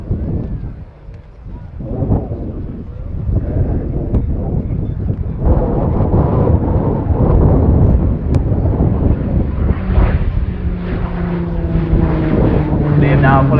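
A Shorts Tucano turboprop trainer flying an RAF air display pulls up into a loop, its steady engine roar mixing with wind under continuous commentary.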